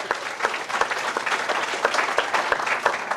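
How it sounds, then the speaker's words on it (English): A room of people applauding at a Democratic candidates' forum, many sharp individual claps in a brisk, sustained patter, moderately close and alone without talk. "Well, everyone deserves a huge round of applause"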